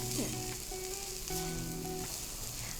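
Dill leaves go into a sizzling onion tempering for a dill and split lentil palya, giving a steady close frying crackle with faint tonal whines running through it.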